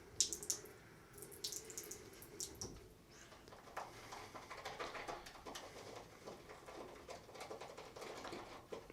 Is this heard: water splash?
yes